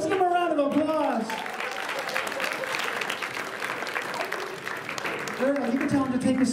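Audience applause fills a high school assembly, steady and loud for several seconds, with a voice speaking over the start and again as the clapping fades at the end.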